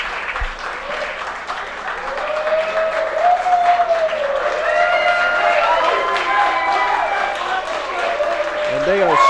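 A wrestling crowd in Union City gives sustained applause and some cheering after a women's ladder match, with a commentator talking continuously over the clapping.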